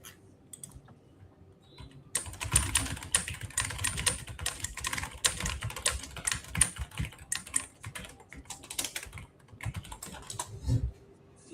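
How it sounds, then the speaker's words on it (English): Very fast typing on a computer keyboard: a rapid, unbroken clatter of keystrokes that begins after a short quiet gap and runs on loudly and close to the end, with no voices. "You guys hear the speed of that keyboard moving?"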